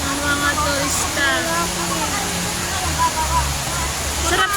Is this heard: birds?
no